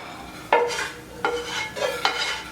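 A utensil mixes butter into a panko, Parmesan, parsley and smoked paprika topping for a baked tuna casserole, with four distinct scraping clinks against the bowl spaced about a second apart, close and clear.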